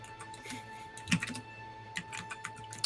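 Soft keyboard typing, a few scattered clicks and taps in irregular bursts, close but quiet against a faint steady hum.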